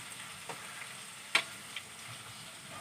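Egg samosas deep fry in oil toward golden brown, a soft, steady bubbling hiss with a few sharp pops and one distinct crackle standing out, quiet and close with no talk.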